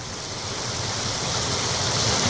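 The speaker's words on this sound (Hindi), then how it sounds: "लोग यहां जान जोखिम में डालकर उफनते नाले को पार कर रहे हैं" A flooded stream in Chhattisgarh surges past in a continuous broadband roar of rushing water, loud and close, with no voices.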